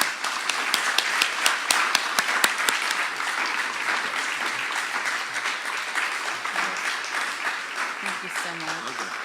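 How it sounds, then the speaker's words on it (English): A big round of audience applause at closing remarks, dense clapping with sharp individual claps early on that settles into a sustained roar, with a voice faintly emerging near the end. "So please join me in a big round of applause."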